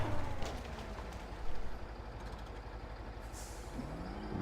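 Heavy off-road truck in the mud-driving game Spintires: Mudrunner: a steady low diesel engine drone with a brief hiss of air brake release and a rising whine, mid-distance and fairly quiet, no talking.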